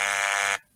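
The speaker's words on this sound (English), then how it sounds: "This is still a buzzer." A TV quiz show buzzer from a 1978 Tyne Tees broadcast sounds once, a loud harsh electric tone lasting about half a second before cutting off abruptly.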